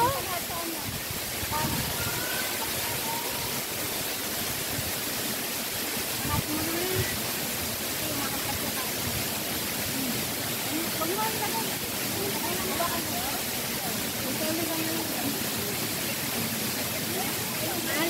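Steady, loud rushing water roars continuously from a nearby waterfall in Hong Kong, a dense hiss with no breaks throughout.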